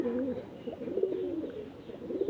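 Chennai breed pigeons in a loft coo steadily at close range, a low, rolling warble repeating throughout with no voices over it.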